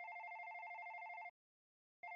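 A telephone rings with a bright electronic trill, one sustained ring that stops, a short silence, then the next ring starting, clean and close with no other sounds.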